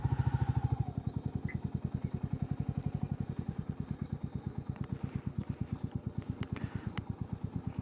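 A motorcycle engine runs steadily nearby while the bike is being parked, with a fast, even putter that stays loud throughout and a brief louder rev at the start.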